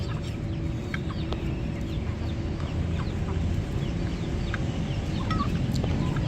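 Hen with her chicks at a home farm, soft low clucks repeating close by with thin high peeps from the chicks scattered over a steady background hum.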